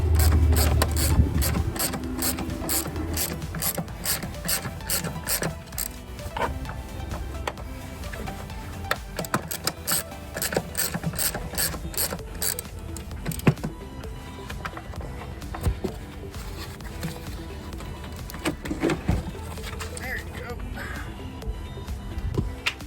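Ratchet wrench with a 14mm socket working the battery terminal on a 2016 Chrysler Town & Country, giving dense rapid clicking throughout with scattered metallic clanks, close by and steady, no talking.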